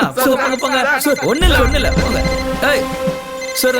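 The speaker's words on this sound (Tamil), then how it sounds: "அது என்னோட ஃபோன் சார்." A mobile phone ringtone plays steadily beneath a heated, overlapping argument between men, a sustained tonal ring running under the shouting for the whole stretch.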